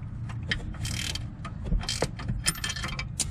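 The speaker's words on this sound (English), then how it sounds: "Let's get a ratchet spanner on there." Ratchet spanner clicking as it turns a 10mm nut on the rear lower suspension of a BMW E65/E66 7 Series, with rapid mechanical ratcheting and metallic clicks in a workshop, close and moderately loud.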